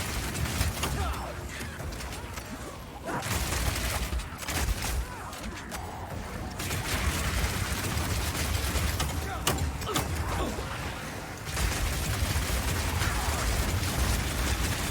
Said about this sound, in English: you can just keep firing and firing with it